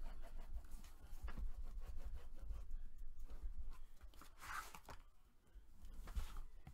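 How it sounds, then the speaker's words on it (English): A bone folder or similar tool burnishes paper onto chipboard for a mini album, giving soft repeated rubbing strokes, quiet and close, with no talking. "And now I'm going to take this and burnish it really well."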